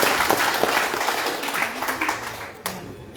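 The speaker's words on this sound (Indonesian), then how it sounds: "Tepuk tangan dulu." Audience at a campaign rally for a regional election candidate claps steadily for about three seconds, a dense patter of many hands that thins toward the end, with a faint voice underneath.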